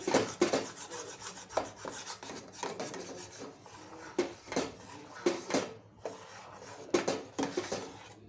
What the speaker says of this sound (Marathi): तर अशा प्रकारे कंटिन्युअसली फिरवत राहायचं आहे।